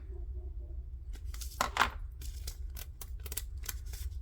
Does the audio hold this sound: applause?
no